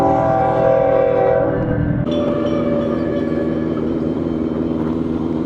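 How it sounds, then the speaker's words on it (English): A train runs along railroad tracks with a steady loud rumble and a sustained horn blast that stops partway, leaving continuous rolling wheel and engine noise. "but this is the train"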